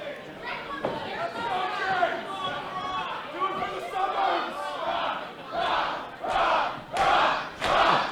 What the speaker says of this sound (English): Crowd cheering on Roth.